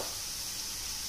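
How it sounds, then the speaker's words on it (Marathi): Spices fry in a pan for a soybean keema appe, giving off a steady close sizzle and hiss with no let-up. "आपण चांगले मसाले परतून घेऊया"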